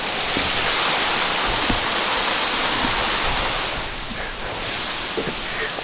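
At a landscape viewpoint, rushing water makes a loud, steady broadband roar that fills the whole clip with no break, and no one talks over it.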